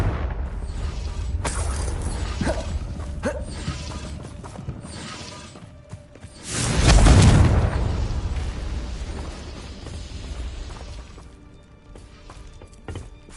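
A Confringo fire-blast spell from Hogwarts Legacy erupts in a single loud, booming burst midway, standing out above quieter background game sounds and ringing briefly before fading.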